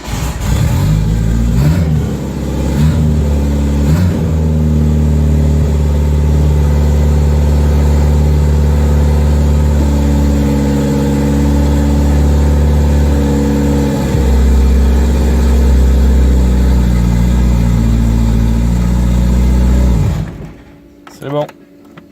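A Renault 5 GT Turbo rally car engine cranks, starts and runs: a loud, close, steady rumble that rises and falls as it is revved, then cuts off abruptly near the end, with voices talking faintly underneath.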